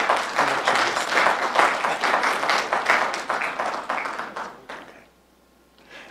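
Dense applause from a public meeting audience fills the hall steadily for nearly five seconds, then fades out quickly to near silence.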